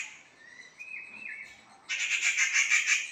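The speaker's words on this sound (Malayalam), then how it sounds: "ഓലഞ്ഞാലി കിളിയാ." A rufous treepie calls in Kerala, first with thin, wavering high notes and then a loud, dense run of harsh, rapid chirps near at hand, with no talking.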